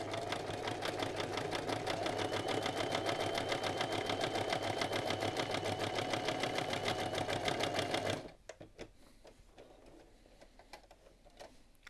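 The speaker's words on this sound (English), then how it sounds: "But on an electric machine, it is a very easy way to quickly sew" An electric sewing machine runs steadily for about eight seconds with a rapid, even stitching rhythm, then stops, leaving a few faint clicks and handling sounds.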